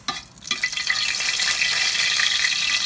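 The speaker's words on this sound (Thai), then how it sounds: "ใส่น้ำมันลงไปเลย น้ำมันลงไปเราจะคั่วพริก" Dried chilies roasting in hot oil in a pan while being stirred, for a Northern Thai chili dip, giving a steady, dense sizzle and crackle that holds close and loud throughout with no voices.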